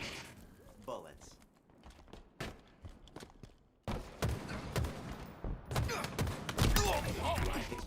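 Gunfire in a Halo scrim match on Xbox, rapid bursts of shots mixed with footsteps, sparse at first then denser and louder in the second half, with voices talking underneath.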